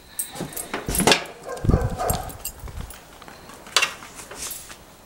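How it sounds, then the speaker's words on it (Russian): A guard dog barks near a garage in several sharp, separate outbursts with short whimpering yips between them, fairly close, against a quiet background. "Масик, что ты не гавкаешь?"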